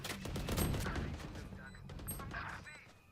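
Gunfire in the Valorant video game, a dense burst of rapid shots that is loud and close at first and then trails into scattered bursts, with game effects mixed in.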